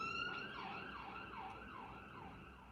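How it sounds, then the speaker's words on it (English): A wailing emergency siren rises and falls in steady repeating sweeps, fairly clear and continuous with no voices. "Sirens running up and down."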